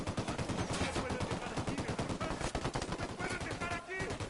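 Video game gunfire from Ghost Recon in Ghost Mode. Dense, rapid automatic bursts crack continuously and loudly for several seconds, with shots overlapping in quick succession.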